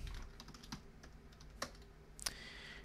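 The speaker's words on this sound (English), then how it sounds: "so just type in your full name." Scattered keystrokes on a computer keyboard as a full name is typed, a handful of sharp, close clicks spaced irregularly over a quiet background, with no talking.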